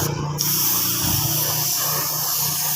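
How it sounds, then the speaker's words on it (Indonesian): A spray gun hisses steadily and close by while painting a motorcycle bumper silver, starting after a short pause and then running continuously at a loud, even level. "kita semprot tipis-tipis saja seperti ini"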